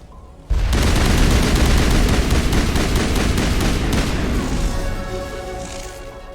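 Sustained weapon fire and explosive booms from the Mass Effect Legendary Edition game, a loud rapid crackling barrage that starts abruptly and slowly tapers off with a ringing tail.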